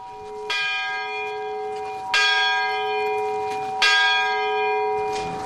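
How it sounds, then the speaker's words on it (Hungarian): A church bell tolling on January 13 in remembrance, with three loud, ringing strikes about every 1.6 seconds, each leaving a long sustained hum that overlaps the next, heard alone without voices. "Január 13-án értük szól a harang."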